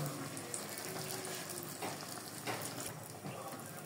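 Poa pitha, a Bengali rice-flour fritter, fries in soybean oil, giving a soft, even hiss with faint crackles throughout at a low, steady level.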